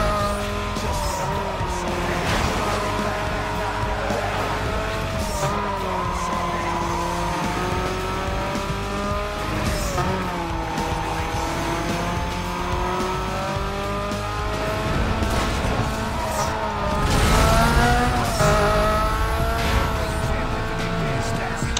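A Nissan car racing in Need for Speed Most Wanted, its engine roaring and revving continuously as tires squeal through corners, loud and sustained, with a voice talking over it.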